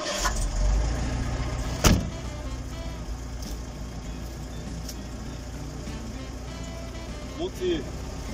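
A Citroën DS with hydropneumatic suspension starts with a short thump, then its engine settles into a steady idle as the body rises, with a voice speaking faintly over it.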